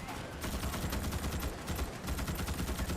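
An automatic gun fires in rapid, continuous bursts in the game Starship Troopers: Extermination, a dense rattling stream that pauses briefly before resuming, heard fairly quietly.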